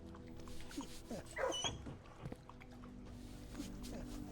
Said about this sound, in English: Oh, that was the dog making the sound.